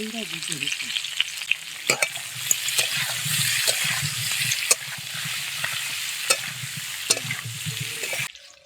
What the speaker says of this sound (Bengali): আলুটা এখন দিয়ে দেব হলুদ দেব লবণ